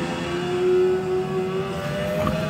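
A race car engine revs and pulls hard under full throttle at ThunderHill track, a sustained moderately loud whine rising through the short stretch with no voices.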